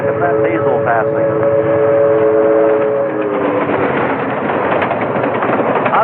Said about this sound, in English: Hey, look at that diesel passing.